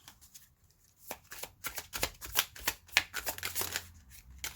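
A deck of tarot cards is shuffled close up in a long run of quick riffling flutters and soft slaps that build and continue steadily, with no talking.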